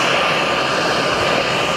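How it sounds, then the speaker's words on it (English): A U-2 spy plane's jet engine roars steadily in flight, a loud continuous broadband drone that holds at the same level throughout, with no voices. "Landing the spy plane, nicknamed the Dragon Lady, also requires unique abilities."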